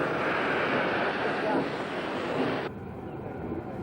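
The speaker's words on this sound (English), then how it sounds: "number 1055 left Padang Panjang for a descent of the rack with a mixed coal and passenger train for the coast" E10 rack steam locomotive number 1055 in Indonesia in 1974 leaves Padang Panjang hauling a mixed coal and passenger train, producing a loud, steady rumbling hiss that drops abruptly to a quieter rumble near the end.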